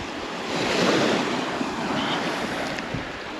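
Steady broadband wash of calm sea surf rolling onto a long Crimean beach at Tarkhankut, Olenevka, with gentle swells in loudness and some wind noise over it.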